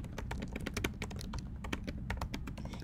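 Rapid, close tapping on a computer keyboard, a steady run of quick clicky keystrokes with no voices.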